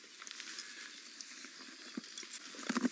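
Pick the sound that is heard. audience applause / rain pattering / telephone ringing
rain pattering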